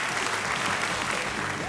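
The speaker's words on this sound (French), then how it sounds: "Merci d'applaudir Thibaut le magicien." Dense, steady applause from an audience at an awards ceremony greeting a magician, filling the whole stretch with continuous clapping and a faint whistle near the end.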